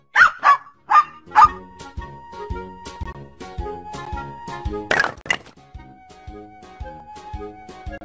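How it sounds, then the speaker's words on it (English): A dog barks several times in quick, loud, close bursts, followed by thumps and ringing chime-like tones in a children's animal learning setting. "Dog."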